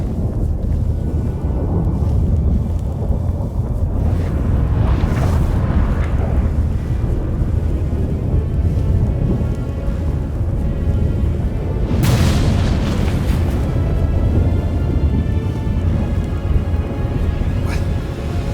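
Storm in The Witcher 3 video game, a constant roaring wind-like rumble across the whole stretch with a couple of heavier thunderous booms surging in, loud and dense, no voices.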